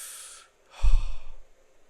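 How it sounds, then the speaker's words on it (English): A person takes a slow, deep breath nearby, with a soft airy inhale followed by a louder, rough exhale that fades out; no talking. "Take a breath."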